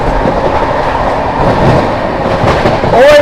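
The 12329 West Bengal Sampark Kranti express rushes through Ekdil station without stopping, a loud, close, steady roar of rolling wheels with rhythmic clatter and a faint squeal near the end, no voices.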